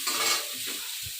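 Cauliflower frying in a pan until reddish, with a short burst of close hissing sizzle and a few soft stirring scrapes and a dull knock.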